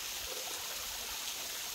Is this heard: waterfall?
yes